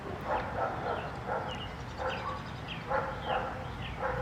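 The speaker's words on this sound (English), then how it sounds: "The dogs are always barking in the neighbor's yard." Several dogs bark in irregular bursts at a moderate distance in a neighbor's yard, with a few higher yips among them over a steady background rumble.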